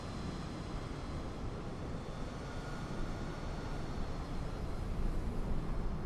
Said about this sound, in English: we got to watch this Jetstar land now